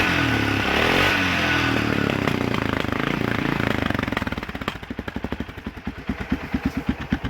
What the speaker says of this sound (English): Let her idle for a little bit longer.